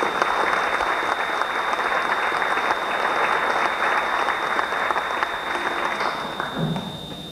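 Audience applause for a performer at a Boyacá music event, steady dense clapping filling the room for several seconds before fading near the end, with a faint thud at the close.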